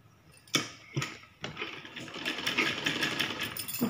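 A domestic sewing machine stitches around a blouse neckline: a few brief starts and stops with sharp mechanical bursts, then a steady close whirring run of rapid stitching, loud and alone without talk.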